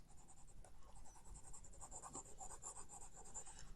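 Marker or eraser rubbing across a board, a soft steady scratchy friction with repeated strokes, quiet and close with no talk.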